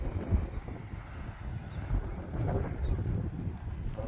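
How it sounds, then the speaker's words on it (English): Wind gusting outdoors in a sunny seaside garden area in Tenby, a steady rushing roar buffeting the microphone, with low rumbling surges and no speech. "It is windy though."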